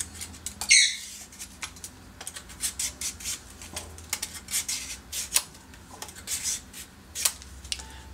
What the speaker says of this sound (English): I'm going to peel our squash.